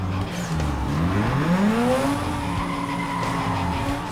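Race car tires skid and squeal in the Need for Speed Most Wanted racing game, a loud sustained screech sliding upward in pitch over steady engine roar, with no one talking.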